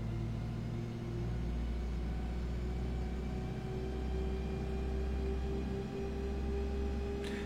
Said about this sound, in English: This is a very slow bus. It won't change up even if I appear to have it stuck.